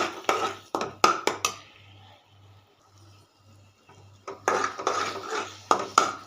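A spoon scrapes and clatters against a pan while banana halwa is stirred in a home kitchen. Bursts of close metallic scraping are separated by a quieter pause, with a faint repeating low hum underneath.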